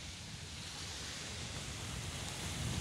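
Sea waves on the beach at Muscat, Oman, make a faint, steady wash of surf, a continuous broadband rush with no distinct breaks and no voices.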